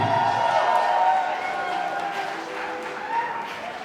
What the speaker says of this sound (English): Ladies and gentlemen, let's give them both a big round of applause.